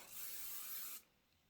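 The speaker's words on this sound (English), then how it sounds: "Before I go on to the next step, I'm going to spray my background fabric." A spray can hisses onto background fabric for a quilting project in one continuous burst of about a second, then cuts off, close and with no talking.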